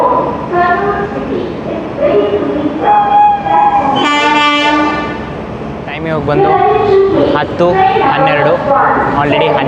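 The Amravathi Express (17226, Hubballi) rumbles along steadily with slip coaches attached while people talk nearby, and a long horn sounds partway through.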